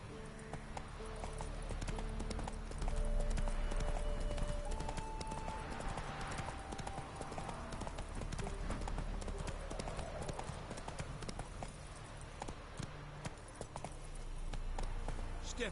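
The horse Roach gallops in The Witcher 3, hooves beating a fast continuous clip-clop close by, with game music and ambience running underneath throughout.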